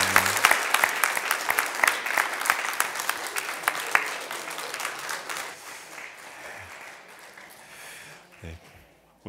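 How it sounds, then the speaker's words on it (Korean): Church congregation applauding at an Easter Sunday service after an infant baptism, a dense burst of many hands clapping that gradually thins and fades, with a few voices murmuring near the end. "자, 우리 다시 한번 박수 한번 할까요?"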